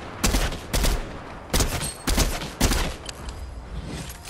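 Several loud, close bursts of MK7 assault rifle fire in the video game Fortnite, each volley a few rapid shots, separated by short pauses, with no talking.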